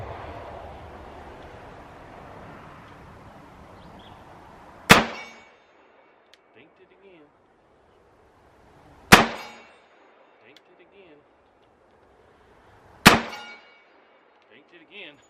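Three sharp 10mm pistol shots fired with Remington UMC ammunition at an outdoor range, spaced about four seconds apart, each a loud crack with a short ringing tail and quiet pauses between.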